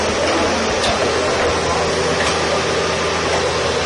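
A Karcher B90 floor scrubber running in vacuum-only mode with the scrub deck raised, giving a loud, steady, unbroken whine and rush of suction.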